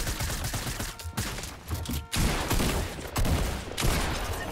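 Gunfire in the video game Fortnite: several rapid bursts of shots in quick succession, loud and close, with brief gaps between volleys and no talk.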